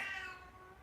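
A cat meows once, a drawn-out tonal cry that fades over just under a second, heard near and fairly quiet during a home vinyasa yoga session.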